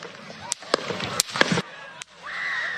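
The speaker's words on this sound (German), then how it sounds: "Plötzlich sind mehrere Knallgeräusche zu hören." Several sharp, loud cracks ring out in an irregular burst at an outdoor Trump rally in Pennsylvania, with crowd noise and raised voices rising afterward.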